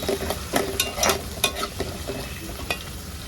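Curry leaves tossed into hot oil for an Aila fish curry (meen kulambu) crackle and sizzle in a pan, with scattered sharp pops and stirring scrapes over a steady frying hiss, close and moderately loud, no talking.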